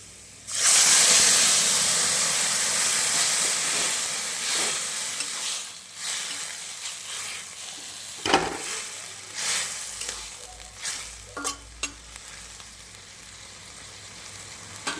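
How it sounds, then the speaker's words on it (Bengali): Leafy greens hit fried onions in a hot kadai with a sudden loud burst of sizzling and steam that gradually settles into softer crackling, broken by stirring scrapes and clinks. "পেঁয়াজটা ভাজা হয়ে গেছে, এবার আমি শাকটা ছেড়ে দিচ্ছি।"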